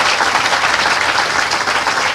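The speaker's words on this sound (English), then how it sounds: "So we could give one more round of applause for all of our speakers this morning." Outdoor crowd at a highway express lanes groundbreaking ceremony giving loud, dense applause for the speakers, a sustained even roar of many hands clapping close by.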